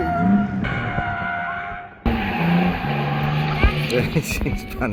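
A BMW E34 drift car with a swapped Barra engine spins out on a track, its engine revving up and down with tire scrubbing, and voices are heard over the car noise.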